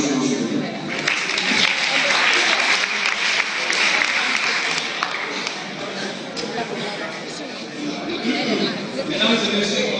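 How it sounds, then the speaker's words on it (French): Applause from an audience at a leadership speaking contest semi-final fills the room, a dense, continuous clatter of clapping hands with background chatter and voices, swelling and easing over the span. "Vos applaudissements, s'il vous plaît."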